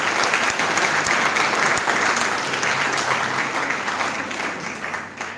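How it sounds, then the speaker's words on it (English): Audience applause fills the hall at the closing ceremony of an international health symposium, a dense, steady wash of many hands clapping that holds strong before tapering slightly toward the end. "So big round of applause for them."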